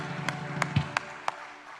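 A few separate hand claps in a church congregation ring out one by one in a slow, uneven rhythm, fairly close, then fade into quiet.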